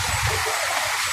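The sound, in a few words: flowing dirty water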